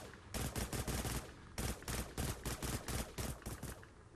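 Scrambler Rifle in a video game firing continuously, loud rapid shots in tight bursts with short gaps between them and no talking.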